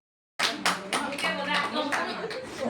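A group claps hands at a farewell gathering for a retiring worker or helper, starting abruptly after a brief silence with several sharp, loud bursts that settle into steady, dense applause.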